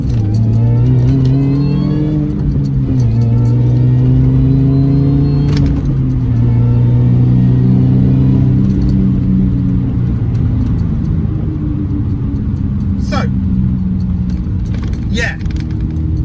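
A supercharged car fitted with a lightweight crankshaft pulley and lightweight alternator pulley accelerates hard through the gears on a straight country lane, its engine rising steadily and loud with pitch drops at each shift throughout.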